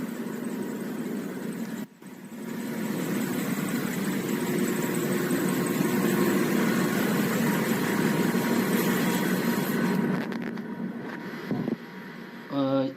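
A blower fan runs on a slipping V-belt, giving a steady droning hum with faint tonal whine, briefly dropping out near the start and shifting near the end, with no talking.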